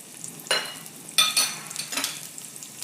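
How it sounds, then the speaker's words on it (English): Green chilies hit hot oil in a pan for egg bhurji, three sharp, close bursts of sizzling spatter that then settle into a quieter crackle. "When the oil is hot, put some green chilies"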